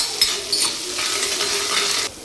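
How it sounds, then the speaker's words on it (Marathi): Onion with garlic-cumin paste fries in hot oil, a steady close sizzle with scraping stirs and a few light clicks of a spoon against the pan, ending abruptly. "बघा मस्त तेल टाकलं, त्याच्यात कांदा आणि हे लसण जिऱ्याचा पेस्ट आणि याला मस्त फिरवून घ्यायचं आहे"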